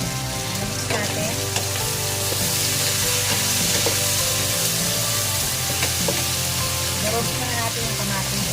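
Bottle gourd (upo) sizzles steadily in a hot pan while a utensil stirs it, with loud continuous frying and repeated scraping clatter throughout, no talking.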